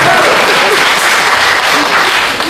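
Loud, dense applause from a crosstalk theatre audience during a Deyunshe solo comic storytelling show, a continuous wash of many hands clapping throughout with no pause.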